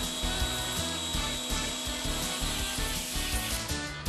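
A CNC milling machine makes its final contour pass, taking off 50 thousandths, with a steady loud droning whir and cutting chatter that runs on without pause.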